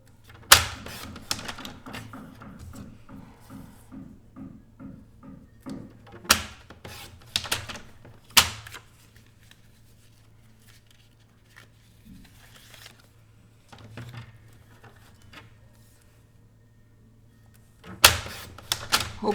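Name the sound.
cutting paper pieces to size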